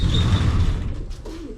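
Pigeons in an aviary's breeder section give soft, low cooing within a muffled, rumbling space, and a brief higher call is heard near the end.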